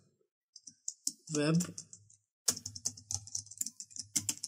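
Group name being typed on a computer keyboard: quick irregular key clicks in short runs, close and crisp, with someone speaking in between.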